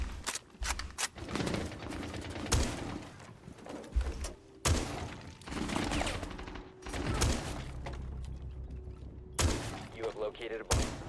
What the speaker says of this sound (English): Shotgun going live.